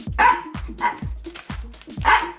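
A Chihuahua barks five times in a steady, insistent rhythm in a home kitchen, each sharp yap close and loud, with short pauses between.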